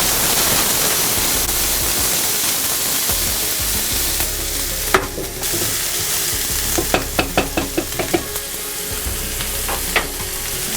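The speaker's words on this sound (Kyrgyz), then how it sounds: "Пиязды бат-баттан кооруп алышыбыз керек" Onions frying in vegetable oil in a hot pan give a steady, close sizzle throughout, with a run of sharp clicks and scrapes from stirring near the end.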